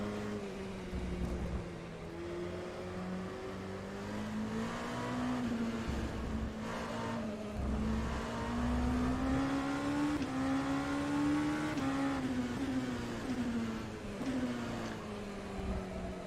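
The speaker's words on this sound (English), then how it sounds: "what does this car sound like? Yes, it sounds like the Oreca" An Oreca LMP2 race car with a Cosworth engine in the rFactor 2 racing game, at Spa, drones steadily with rising and falling engine pitch as it accelerates and shifts, alone and fairly loud throughout.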